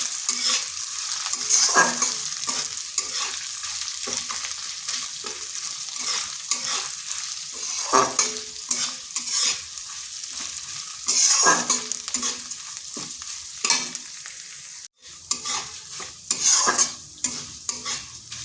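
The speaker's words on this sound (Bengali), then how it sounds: "আদাটা এই ডালের সাথে একটু ভেজে নিচ্ছি, তাতে ডালটাও ভাজা হয়ে যাবে ভালোভাবে" Lentils and grated ginger fry in a pan with a steady hiss and sizzle, punctuated by repeated close scraping stirs of a spatula, with no talking.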